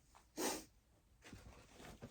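A single short, sharp sneeze up close against quiet room tone, followed by soft breathing.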